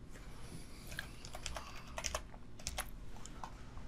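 Quick bursts of computer keyboard typing while a name is entered, light clustered key clicks at close range with brief pauses, no speech.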